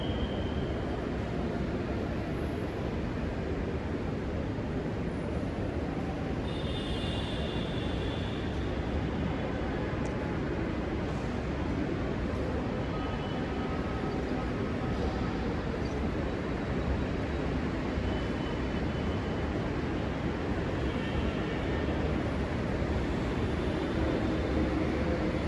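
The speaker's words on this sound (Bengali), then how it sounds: "ট্রেনের মাথা দেখা গেছে, তার মানে 1 মিনিটও লাগবে না, এখন 20 সেকেন্ডের মধ্যেই ট্রেন চলে আসবে।" A Dhaka metro rail train approaches an elevated station as a steady, broad mechanical rumble that holds fairly even for the whole stretch, moderately loud with no talk over it.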